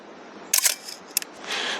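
A handheld camera fires at a slow 1/15-second shutter speed while shooting landscapes on bluffs along the Mississippi, giving a close mechanical clack, a brief gap, then a second click, followed by soft rustling.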